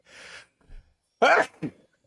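One sharp, close sneeze breaks out, with a short sniff or breath just before it and a smaller gasp trailing after, against faint room noise.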